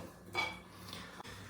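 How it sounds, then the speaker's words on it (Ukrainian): Fried vegetables are added to potatoes in a dish, producing a brief clink of utensil against crockery followed by soft scraping and a second small knock, quiet and close, without talk. "сюди в картоплю додаємо нашу піджарочку, яка вийшла"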